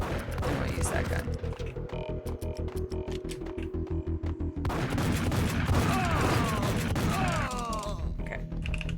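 In the Max Payne video game, a steady rapid string of loud gunshots runs for several seconds, then gives way to a denser mix of shots, crashes and clatter.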